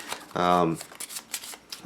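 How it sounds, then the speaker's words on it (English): A deck of playing cards is shuffled for the Tiny Epic Defenders tabletop game, giving short papery riffling bursts. A voice talks over the start of the shuffling. "Let's shuffle these up real good here."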